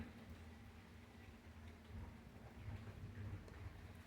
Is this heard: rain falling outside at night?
yes